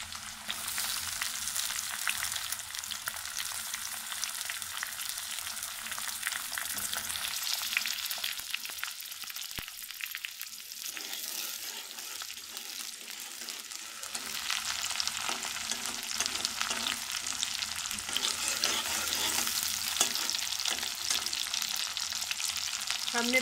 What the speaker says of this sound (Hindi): प्याज हमारे फ्राई होना स्टार्ट हो गए हैं।